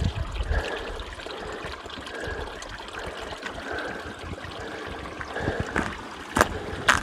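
A creek flows over bedrock in open country, giving a steady, close, broadband watery rush with small splashes and gurgles throughout and a few louder bursts near the end.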